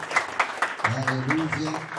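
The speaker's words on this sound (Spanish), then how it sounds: "Dale palmas a Cristo." A church congregation claps in a quick, even rhythm, and voices and sustained sung tones soon rise over the clapping.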